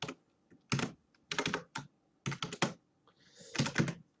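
Typing on a computer keyboard, close clusters of quick key clicks in short irregular bursts separated by brief pauses, with no voice over them.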